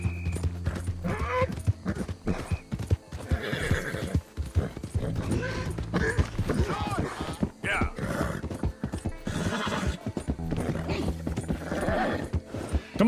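A horse galloping in Red Dead Redemption II, with steady rhythmic hoofbeats, occasional whinnies and snorts, and creaking tack running throughout, fairly close, while a voice talks over it at times.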